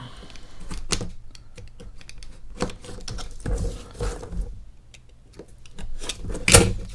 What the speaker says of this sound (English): I'm going to use my blade on part of this, go all the way up, and then I'll cut this notch out